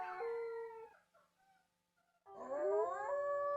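A dog howls twice, a long mournful wail, a short quiet pause, then a second rising howl, fairly faint and alone.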